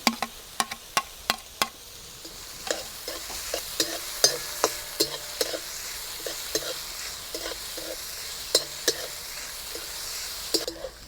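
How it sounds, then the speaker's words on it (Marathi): Onion and green chilli sautéing in a pan, a gentle sizzle under frequent sharp scraping taps of a spatula, quick in the first seconds and then irregular, close by with no talking. "पणा दूर होईपर्यंत आपल्याला परतून घ्यायचं आहे हिरवी मिरची"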